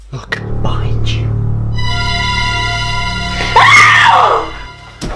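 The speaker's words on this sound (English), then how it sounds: "I heard someone scream." A person screams, a long sustained shriek that rises and strains toward the end, loud and close, over a low droning background in a tense horror setting.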